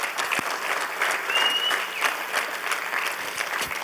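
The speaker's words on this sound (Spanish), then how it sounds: "aquí es donde aplauden" A church congregation applauds in a steady, even wash of clapping. It comes at moderate loudness from the room and holds without a clear build or fade.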